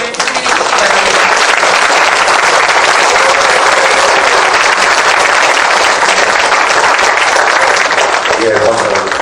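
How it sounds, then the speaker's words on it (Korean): An audience applauds to welcome a novelist at a literary lecture, a loud, dense and sustained clapping that continues evenly throughout and fades slightly near the end. "큰 박수로 작가님을 소개해 주시기 바랍니다"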